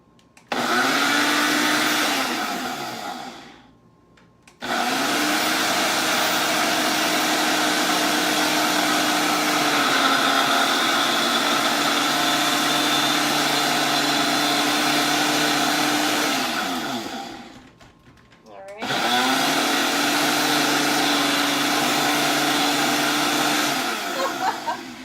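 Cream cheese pound cake batter whirring in a blender, a loud steady motor drone that runs for several seconds, cuts out briefly, then starts again.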